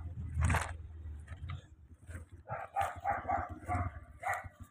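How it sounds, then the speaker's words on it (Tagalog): A dog barks repeatedly near a roadside shortcut, first one sharp bark, then a quick run of several barks, fairly close and mixed with light outdoor background noise. "may aso"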